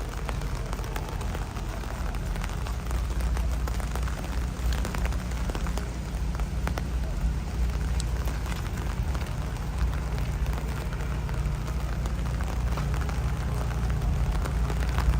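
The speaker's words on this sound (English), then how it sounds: "Bob says the summer rain can be very peaceful indeed, Bob." Steady summer rain patters on an umbrella during a night walk through Toronto, a dense, continuous hiss with low rumble running unbroken and close throughout, with no talking.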